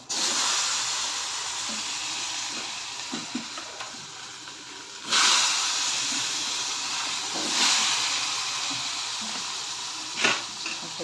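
Ridge gourd tossed into a hot pan with black masala sizzles and hisses, the steady frying sound rising in several louder bursts as the pieces are stirred. No one speaks over it.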